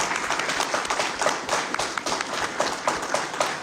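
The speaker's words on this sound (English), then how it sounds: "So just give them a round of applause." A crowd at a National Signing Day gathering applauding, a dense, steady wash of clapping that continues evenly from start to finish.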